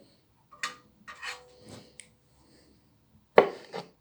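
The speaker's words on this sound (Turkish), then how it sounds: "Böyle küçük küçük doğrayalım." Several sharp knife chops on a cutting board, irregularly spaced and close, with a short quiet gap before two final cuts.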